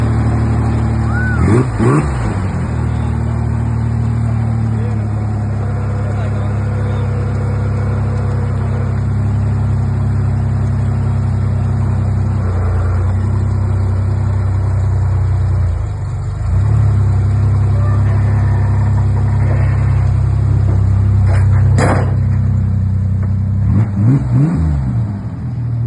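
A brand new truck revs hard and drives off a trailer, its engine loud and close throughout with repeated surges and dips in pitch as it accelerates away.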